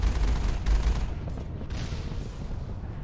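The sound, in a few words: cannon firing at a turret in video game Mass Effect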